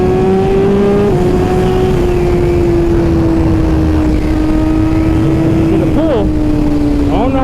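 A 2021 Suzuki GSX-R1000R fitted with a Brocks full exhaust pulls hard with a loud, close engine drone over heavy wind rush. The tone holds steady, then blips sharply upward near the end.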